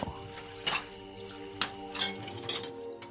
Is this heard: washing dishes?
yes